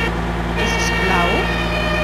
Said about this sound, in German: Und es macht Sirene dazu.